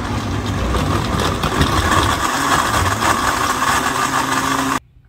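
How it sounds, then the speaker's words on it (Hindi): A blender whirs loudly and continuously as it blends pina colada ingredients with coconut water and ice, then cuts off abruptly just before the end. "और थोड़ी सी बर्फ, और अब इन सब चीजों को ब्लेंड करेंगे"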